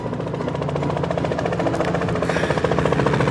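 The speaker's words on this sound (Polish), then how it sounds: "Tylko słyszałem helikopter i tyle." A helicopter flies close by, its loud rotor thumping in a steady, rapid chop with constant engine whine for the whole stretch, and no one speaks.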